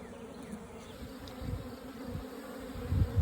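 Bees feed on spilled honey from a hive, giving a close, continuous insect buzz of several wings, soft and steady with a few louder low thumps near the end.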